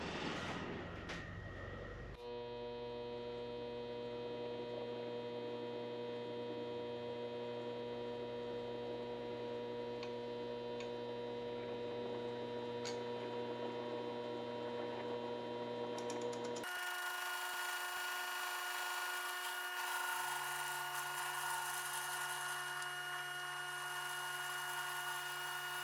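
A metal lathe cuts a ring blank flat in a workshop, giving a steady whirring hum with tonal overtones that shifts to a brighter, harsher cutting pitch partway through. No one talks.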